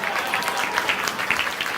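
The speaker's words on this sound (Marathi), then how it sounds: "आता हा जोरदार टाळ्या झाल्या पाहिजे" A crowd at a Ganesh festival dance performance of a Shivaji Maharaj piece gives hearty applause, a dense, even roar of clapping held for its full length, with a voice faintly mixed in.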